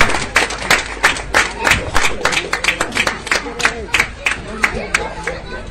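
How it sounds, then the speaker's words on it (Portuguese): A crowd claps in loose, distinct bursts, sharp individual claps standing out over murmuring voices and chatter, close and lively. "Um aplauso bem forte para a mistura"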